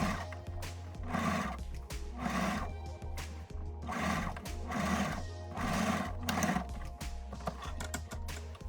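A sewing machine top stitches around the edge of a fabric napkin ring in repeated short bursts with regular pauses, heard close alongside a low steady hum and no talking.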